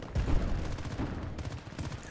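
Rapid bursts of Battlefield: Bad Company 2 multiplayer gunfire crackle and pop continuously, several weapons firing in overlapping volleys with no voices.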